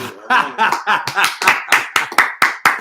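A few people clap in a slow, loose rhythm, about a dozen distinct close claps spaced roughly a quarter second apart, with faint chuckling around them.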